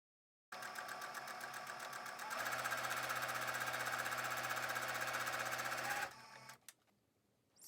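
A sewing machine stitches fabric for a bow tie, its needle hammering in a fast, steady mechanical rhythm that speeds up and grows louder midway, then stops abruptly, followed by a few soft handling clicks.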